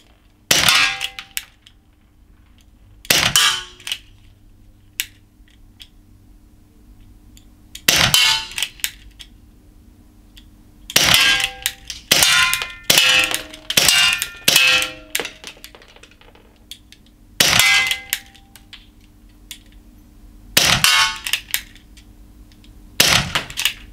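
An Ekol ES P66 CO2 air pistol fires 4.5 mm pellets at a metal target in double action, each shot ringing out with a sharp metallic clang. About a dozen irregularly spaced hits sound close and loud, with quiet gaps between them.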